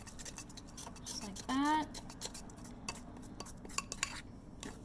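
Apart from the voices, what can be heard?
mixing milk into glaze with a utensil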